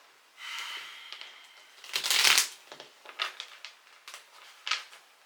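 Tarot cards shuffled by hand in a quiet room, a few soft riffling bursts and crisp flicks with one louder shuffle in the middle, then lighter slaps as cards are drawn and laid down.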